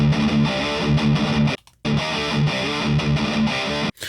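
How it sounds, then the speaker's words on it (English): A distorted electric guitar played through a Rivera Knucklehead Reverb amp fitted with JJ KT77 power tubes chugs out thick, saturated riffs. Two short silent gaps break up the loud, dense playing. "Yeah, I really like the KT77s on the distortion. That sounds really good."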